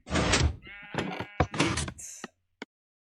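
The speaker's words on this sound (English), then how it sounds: "press the button, you get delivered a sheep" A Minecraft sheep, delivered by a Create mod contraption, gives several loud, close bleats in quick succession, followed by a couple of short mechanical clicks in the quiet afterward.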